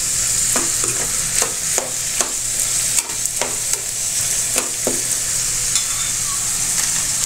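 Jackfruit with pork and ginger sautéing in a hot pan, a steady loud sizzle broken by repeated scraping stirs of the spatula, close and continuous with no talk.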